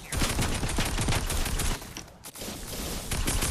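Rapid bursts of automatic gunfire crackle loudly from a Fortnite match, nearly continuous with a brief lull before the shooting resumes at full intensity.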